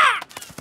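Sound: seagulls squawking

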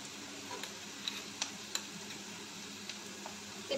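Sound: ginger garlic paste frying with browned onions in a pan

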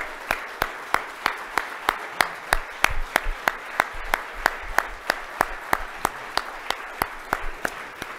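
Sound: nominees applauding family and friends

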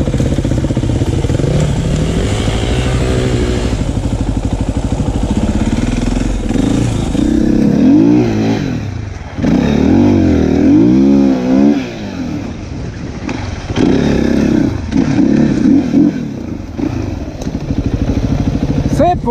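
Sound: enduro motorcycle riding off-road with throttle

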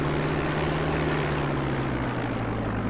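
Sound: aircraft taxiing in the video game X-Plane

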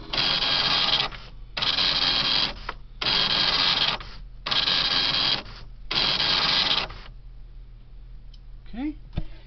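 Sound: printer printing test output from computer printer port

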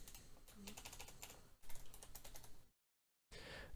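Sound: typing code on a computer keyboard

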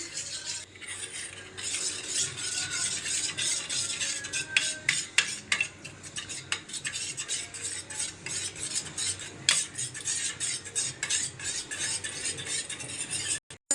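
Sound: stirring custard mixed with warm milk

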